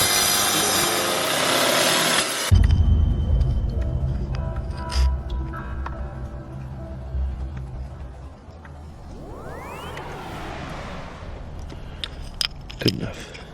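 A rock saw slices silver ore veined with dolomite or calcite: a loud, harsh grinding burst for the first couple of seconds, then a steady low motor drone with scraping and rubbing as the blade works through the stone.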